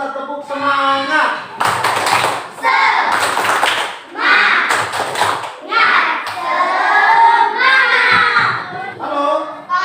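A primary school class doing a rhythmic spirit clap chant, children clapping in patterned bursts while shouting the chant together, loud and close, filling the whole stretch.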